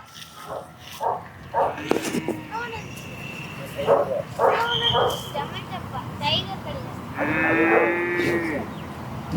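Cattle and calves at the crowded Kannapuram cattle market, forty head brought in by one trader, give a few lowing moos and scattered animal calls amid busy crowd chatter, with a longer, louder moo near the end.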